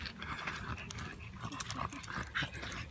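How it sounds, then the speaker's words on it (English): A puppy makes short, excited whimpering and yelping noises, fairly close, amid soft background rustling outdoors at a dog park. "He's a loud puppy."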